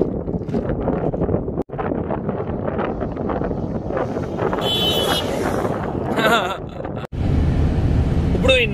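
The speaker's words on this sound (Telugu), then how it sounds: "ఇదిగోండి విండ్, ఇదంతా సి. బొంగోలా అని పిలుస్తారంట అండి ఈ విండ్ ని" Strong wind gusts across the open desert coast at Cape Cross in the Namib, battering the microphone in loud, rough bursts throughout with brief dropouts, while a person speaks over it.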